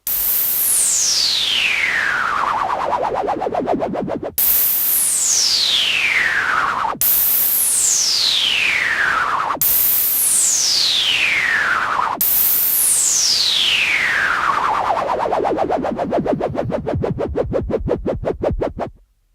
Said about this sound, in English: that panning effect is sounding nice now and giving us some good stereo width